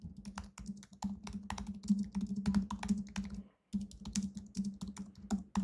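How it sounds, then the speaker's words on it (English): Fingers type on a computer keyboard in quick irregular bursts of crisp clicking key presses, close up, with one brief pause before the typing resumes. "see exactly what I'm typing into AI"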